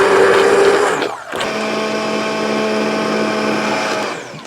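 A kitchen blender grinding boiled mustard greens for saag, a loud steady motor whine that briefly dips and changes pitch, then runs on and tapers off at the end.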